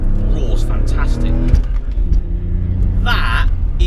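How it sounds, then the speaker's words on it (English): A 2001 BMW 330i Touring with a manual gearbox roars loudly in second gear, a steady, close engine drone that rises as it pulls, with no talk over it. "That gearbox, second gear, roars fantastic."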